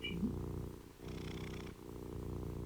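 Close, continuous purring from a domestic cat rolls along in even cycles, with a short pause between breaths and no voices over it.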